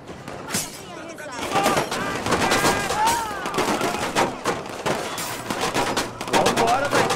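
Heavy gunfire from the Watch Dogs video game rattles in dense, rapid bursts and volleys, loud and continuous across the whole stretch, with some game sound effects mixed in.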